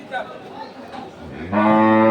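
A dairy cow moos once at a cattle market in Kaharol, Dinajpur, a loud drawn-out low call rising near the end, preceded by a murmur of crowd voices in the background.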